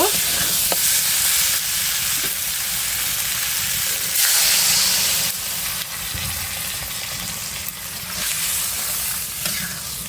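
Chicken curry sizzles and fries steadily in a pan after the meat has been browned, with a continuous hiss and occasional stirring as broth goes in.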